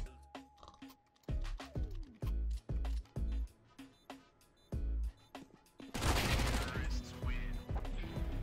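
Gunfire in Counter-Strike: Global Offensive comes as a series of sharp, loud shots, several spaced single cracks followed by a dense sustained burst near the end, with voices around it.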